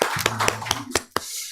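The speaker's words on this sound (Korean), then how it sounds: "우리 하나님께 영광의 박수를 올려드리겠습니다" Church congregation clapping at a Korean Presbyterian Sunday worship service, a short run of scattered hand claps with a few sharp louder strikes, over a low sustained organ or keyboard tone that fades out near the end.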